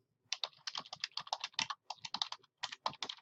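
Quick, steady keystrokes on a computer keyboard as an author's name is entered, a close run of clicks with one brief pause, no talk.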